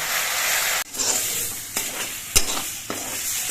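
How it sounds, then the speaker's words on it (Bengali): Taro leaves from a garden being slowly fried in a pan, giving a steady close sizzle with a few sharp stirring clicks and scrapes over it. "এভাবে আস্তে আস্তে জাল দিয়ে পাতাগুলোকে বেশ কিছুক্ষণ ভেজে নিতে হবে"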